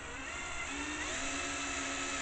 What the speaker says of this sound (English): that's pretty thick steel, heavy steel. All we're doing is taking our time. Just a standard drill bit